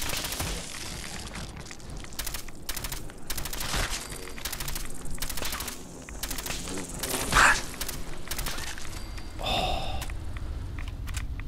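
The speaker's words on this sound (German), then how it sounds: "Wenn ich da nämlich auf den Boden schieße, dann kriegen die wenigstens die Explosion ab." Gunfire and explosions from the video game Fallout 4, with repeated bursts of shots in an irregular rhythm, one louder blast partway through and a sharp burst near the end, loud and close throughout.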